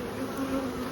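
Honey bees buzzing steadily on a hive frame during a spring disease inspection, a close, continuous drone of many insects at moderate loudness with no talking.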